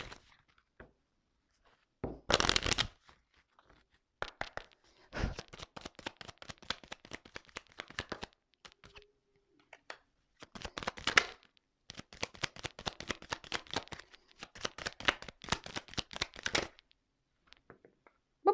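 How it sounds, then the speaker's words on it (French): A deck of tarot cards is shuffled and drawn in dense clusters of soft riffling and flicking, separated by short pauses, close and fairly quiet. No one speaks. "Ok, bon, je vais prendre quelques cartes, juste 3 cartes."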